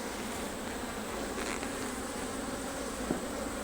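Honey bees buzz densely around an open single deep hive with a honey super, a steady, close, loud drone filling the whole stretch with no voices.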